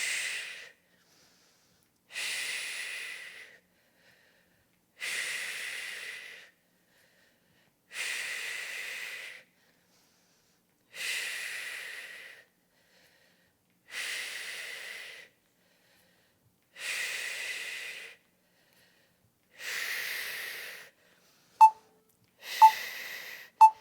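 Heavy, breathy exhales repeat at a steady rhythm during a prenatal lower-body squat workout, roughly every two and a half seconds, close and clear with silence between breaths.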